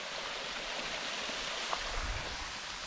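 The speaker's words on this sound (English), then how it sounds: "There's one little waterfall." A small waterfall along a woodland hiking trail gives off a steady, even rush of falling water, broad and continuous throughout, heard at a moderate distance with no voices.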